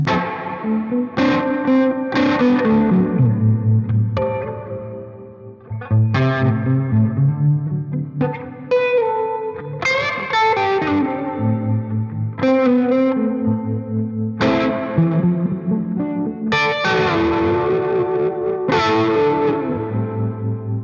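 Electric guitar chords ring out continuously through a harmonic tremolo effect on a VP4 preset, a lush, pulsing warble, loud and sustained, with strums recurring every couple of seconds.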